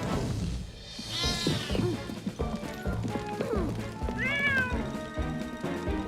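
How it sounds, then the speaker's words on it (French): Cartoon cat from Fireman Sam meowing twice, drawn-out rising and falling cries, close and clear, mixed with thuds, a crash and bits of talk. "Ce chat commence sérieusement à m'énerver."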